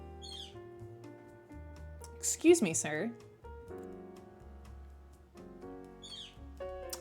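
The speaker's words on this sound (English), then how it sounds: "This very loud bird is back." A very loud bird calls in the puzzle game Galaxy Trucker, with sharp squawking chirps bursting in at the start, middle and near the end, mixed with light music and a voice speaking.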